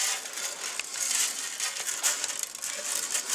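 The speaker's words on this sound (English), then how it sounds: "So now you're dusting the pans that have been coated with butter, and you're gonna... so shake some in here like that." Dry flour is shaken around inside buttered metal bread pans, giving a continuous gritty rattling and scraping that swells and fades unevenly with each shake.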